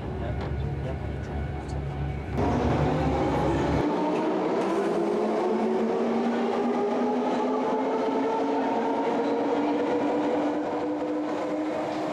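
A train bound for Barking stands at a station platform: a low rumble and hiss give way to a rising electric whine as it pulls away, loud and steady for several seconds.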